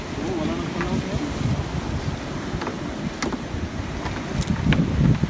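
Strong wind and heavy waves at sea during a storm, heard from a small boat, with a continuous rough roar, buffeting gusts against the microphone and swelling surges of water that grow louder toward the end.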